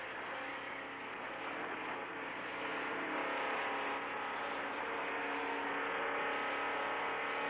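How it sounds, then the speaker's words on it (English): Inside Dr. Don Tarr's number 36 race car at the 1970 NASCAR Firecracker 400, the engine drones steadily under the yellow flag, a dense, continuous roar that swells slightly midway and holds loud throughout. "Remember, you're listening to Dr. Don Tarr speaking from inside his race car as they proceed under the yellow flag."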